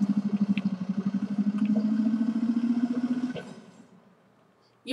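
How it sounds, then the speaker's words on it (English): A video game truck engine rumbles in a low, rapid pulsing throb that holds steady for a few seconds, then cuts off and fades into near silence. "This is just a truck engine sound."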